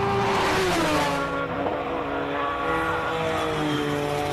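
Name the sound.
hillclimb race car engine misfiring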